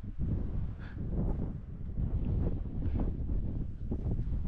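Strong wind buffets the microphone while cycling, a steady, loud, low roar that continues without a break and with no voices.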